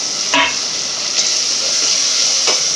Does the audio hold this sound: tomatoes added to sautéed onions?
yes